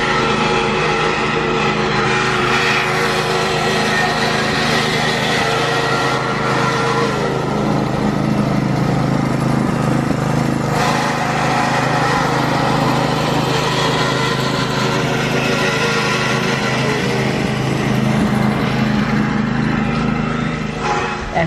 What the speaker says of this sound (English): He's already out there cutting grass.